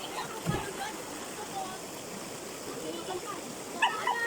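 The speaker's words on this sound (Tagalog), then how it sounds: "Nana iro." A dog near the sea gives a couple of short, faint barks, one early and one near the end, over a constant rushing water background with voices nearby.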